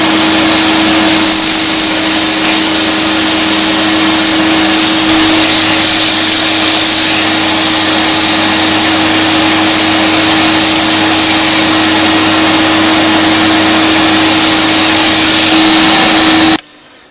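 A power sander works over a turned wooden piece on a lathe, a loud, steady whirring drone with a constant hum that runs unbroken for the whole stretch and cuts off at the end.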